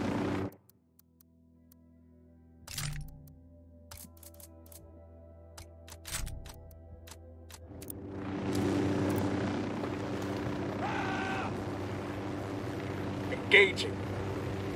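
Helicopter in the Ghost Recon Wildlands video game, a steady low rotor drone building from about eight seconds amid sporadic combat noises, with voices speaking over it.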